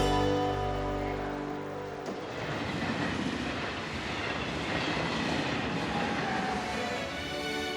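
A passenger train rolls along its rails through northern Italy, giving a steady rumbling wash of wheel and carriage noise heard from on board, with a faint click near the start and no speech.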